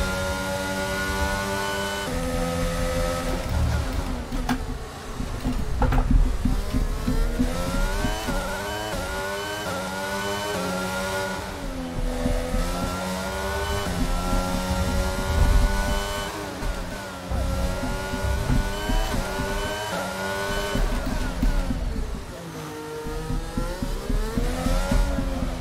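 A Formula 1 race car engine in the F1 22 video game at Monaco revs hard and continuously, rising and falling in pitch through repeated gear changes, loud and close with no voices over it.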